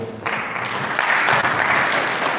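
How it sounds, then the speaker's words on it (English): Applause from a workshop audience for a speaker, a dense steady clatter of many hands that starts abruptly and swells slightly, close and loud throughout. "Let's stand up and clap for him."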